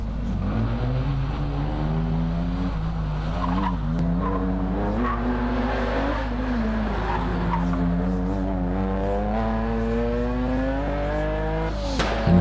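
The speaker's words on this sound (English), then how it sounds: "As we see the Mitsubishi Lancer of Brandon Baustale making its way into the hairpin." A Mitsubishi Lancer race car at a hillclimb revs hard into a hairpin, its engine rising and falling through gear changes with tire squeal, loud and close, ending in a sharp burst.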